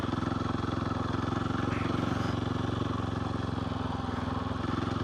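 A motorcycle engine runs close by at a steady, even throb with a regular pulsing beat, holding one speed throughout without clear rises in pitch.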